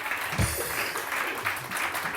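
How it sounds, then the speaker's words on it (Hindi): Studio audience on a Pakistani morning talk show claps steadily through the whole moment, a dense even patter of hands at moderate loudness with no talking over it. "तालियां तालियां तालियां जोर से"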